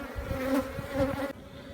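Honeybees from a drone-laying hive buzz steadily close by, a dense sustained hum with rising and falling swells that thins slightly near the end.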